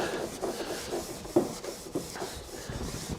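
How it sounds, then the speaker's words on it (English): Hand rubbing down the edge of old wooden furniture during restoration, close scratchy strokes in an uneven back-and-forth rhythm with one sharper scrape partway, no talk. "So give it a good kind of rubbing down like that."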